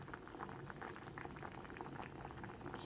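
Cucumber pieces simmer in salted water in a pot, giving a steady close bubbling and gurgling with no voices over it.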